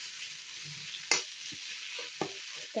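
Tomatoes sautéing in oil in a pan for a spicy chutney, a steady close sizzle with a few sharp spoon-stirring scrapes and clinks over it.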